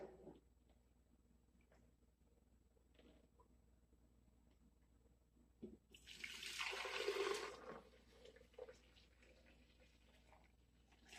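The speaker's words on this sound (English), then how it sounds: "now I'm gonna pour my almond milk in this container" Homemade almond milk poured into a container gives a short, splashy liquid stream lasting a second or two, close and moderately loud against an otherwise quiet room.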